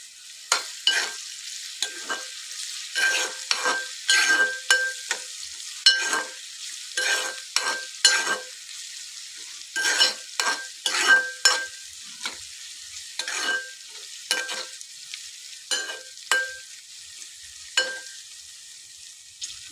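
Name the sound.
frying and stirring capsicum in oil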